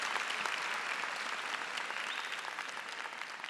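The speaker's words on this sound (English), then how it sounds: "So would you give your family, friends, a round of applause for being here this morning with you?" A graduation audience at Arlington High School applauds family and friends, a steady wash of many hands clapping, fairly distant and even, with no talk over it.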